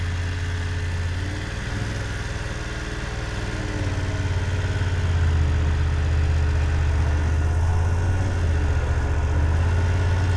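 A motorcycle engine runs low and steady through a slow right-hand U-turn, a close, even rumble that swells slightly partway through, with no talk.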